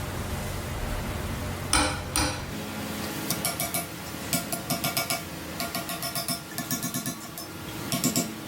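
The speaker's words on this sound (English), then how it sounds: "Hammer it down how you did right here on the edge." Repeated light metal-on-metal hammer taps on truck hardware while building a lifted Ford F-250, loose clusters of quick knocks, continuing throughout over a quiet workshop background.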